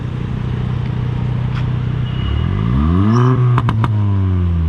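An Audi R8 engine revs up loudly, its pitch climbing steadily over a continuous rumble, with a few sharp clicks near the end.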